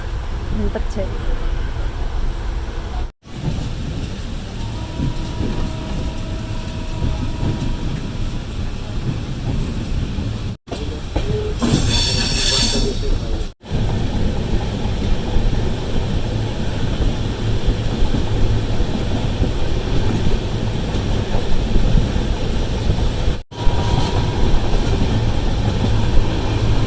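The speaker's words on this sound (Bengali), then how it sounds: "চলো, ছাড়লো ট্রেন।" A passenger train pulls away and runs along the rails with a loud, steady rumble and rolling wheel noise. Brief gaps break the sound, and people talk over it at times.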